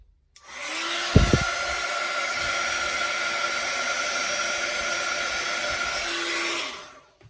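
An embossing heat tool blows hot air in one steady, loud whooshing roar lasting about six seconds, starting and stopping abruptly with a couple of brief knocks near the start.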